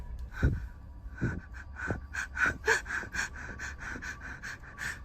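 A woman gasps for breath as she flees through a forest into an open field. Close, rapid, repeated breaths form an uneven rhythm of short pants with no words.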